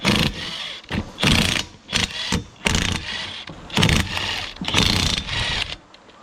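A 1963 Ford Fairlane 500, once abandoned, cranks and tries to start in loud, rough bursts separated by short gaps before the engine catches unevenly.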